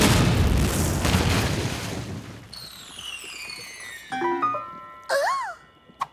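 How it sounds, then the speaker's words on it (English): A cartoon explosion booms loudly and alone at the start, its rumbling blast fading over a few seconds before bright whistling, twanging cartoon effects follow. "He who reads this fortune shall explode."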